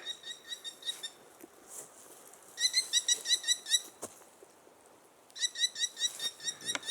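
Repeated high, clear bird calls in bursts ring through a quiet subarctic birch forest at Abisko, fairly distant, with gaps of soft background between the phrases.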